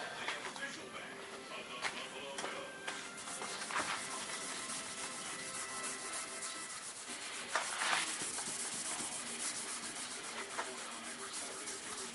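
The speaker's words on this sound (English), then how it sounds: "that's how you sand out the profile" Steady abrasive rubbing of sanding against the profile of a solid surface artificial stone piece, continuous and fairly faint, with a soft hiss and small variations in pressure throughout.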